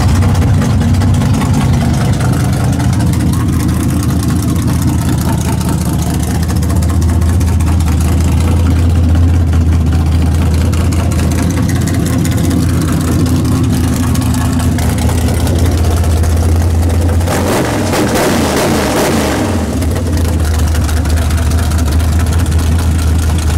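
The 427 engine in a backyard-built race truck runs at a loud, steady, deep idle close by, with a brief rev partway through before it settles back to a rough, even idle.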